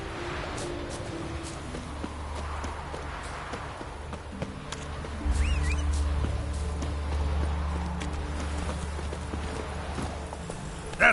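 Roach, a horse in The Witcher 3, trots with steady clip-clop hoofbeats over a low rumbling game ambience, the pace quickening and growing louder midway; a voice speaks briefly.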